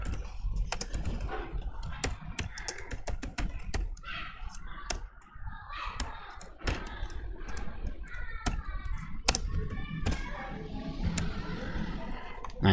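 Rapid continuous typing on a computer keyboard while entering text in Microsoft Word, dense crisp key clicks close by, with occasional soft speech underneath.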